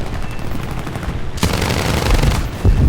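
Loud, rapid bursts of 20mm cannon fire from a Morane fighter plane in a War Thunder air arcade battle, close and continuous with a harsh crackling roar.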